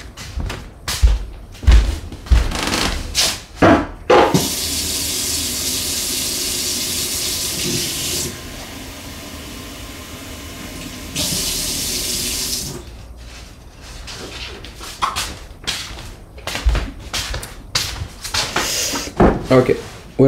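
A kitchen tap gushes in a steady, loud hiss of running water for several seconds, bracketed by clattering knocks and handling noises before and after.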